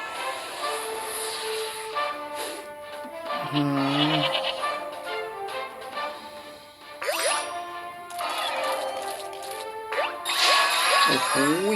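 Goat bleats ring out several times in a video game arena battle, mixed with chiming dings and jingly effect sounds, with the cries rising and wavering over busy game audio.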